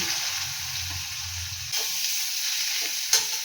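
Chopped onion sizzles in white oil in a pan that was just used to fry eggs, giving a steady close hiss with a low rumble that fades partway through and one sharp clink near the end.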